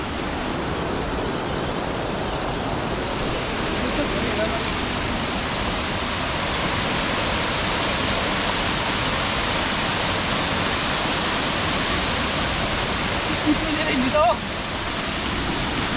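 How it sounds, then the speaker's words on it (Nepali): A mountain stream rushes steadily and loudly for the whole stretch, a dense continuous roar of water on a trek toward Dudh Pokhari on the Gorkha–Lamjung border in Nepal. "यो चाहिँ अर्को खोला आइपुग्यो"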